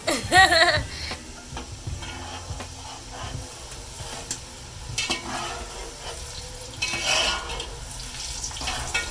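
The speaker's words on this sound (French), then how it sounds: "Maintenant, au même moment, on commence à frire ceci." Dough sizzles and crackles as it deep-fries in hot oil, with occasional clinks and stirring of utensils in the pan, no talking.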